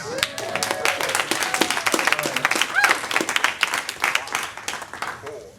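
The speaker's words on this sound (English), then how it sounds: "Give me a round of applause." Audience applause and clapping at a live growth-hacking talk, a crowd clapping steadily for several seconds at moderate loudness, with cheering or voices mixed in.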